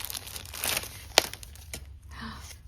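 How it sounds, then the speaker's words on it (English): Pieces of tape crinkle and peel off paper mail tags in short scratchy bursts with one sharp rip, faint and close, under a quiet voice. "I'm gonna have to take all the pieces of tape off."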